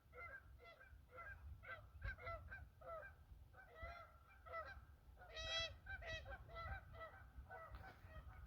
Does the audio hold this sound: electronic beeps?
no